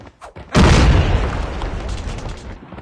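A grenade blows up in a video game shooter: one sudden loud boom, then a rumbling tail that fades slowly over the next few seconds, with faint game noise just before it.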